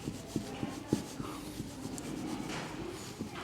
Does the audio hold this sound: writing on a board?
yes